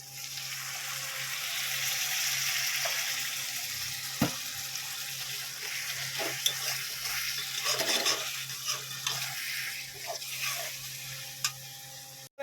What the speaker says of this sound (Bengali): সামান্য পরিমাণে একটু জল দিয়ে দিচ্ছি।